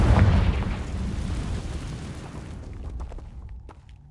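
A Confringo blasting spell in the Hogwarts Legacy video game goes off with a loud, deep boom that opens the moment and then rumbles away over a few seconds, with scattered crackling debris at the tail.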